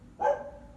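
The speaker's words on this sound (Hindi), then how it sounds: "कुत्ता भौंक रहा है बाहर" One short, faint dog bark from outside, heard alone against a quiet room background.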